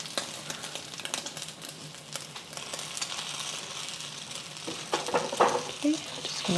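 Egg foo young fries and sizzles in a pan with a steady crackle, joined by scraping and stirring clatter near the end.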